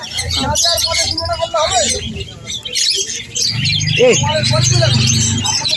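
A pair of sun conures chirps and squawks at a busy Sunday pet market in Serampore, with sharp, repeated calls over steady nearby talk and market bustle.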